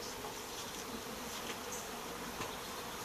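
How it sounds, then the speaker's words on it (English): Honey bees buzz around an eight-frame beehive box, a soft, continuous hum with no voices over it. "I've got bees all over the inside of the hive. I got bees coming out the top now."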